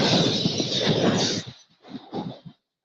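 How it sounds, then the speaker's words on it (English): A car or truck crash effect: a loud, dense impact burst lasting over a second, followed by a scatter of short tinkling fragments of shattering glass that die away into silence. "That's the sound of a big hit on you and your car or truck."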